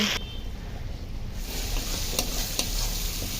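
Chopped tomatoes sautéing with turmeric, red chili powder and salt in hot oil, a close steady sizzle with a couple of sharp utensil taps and stirring scrapes.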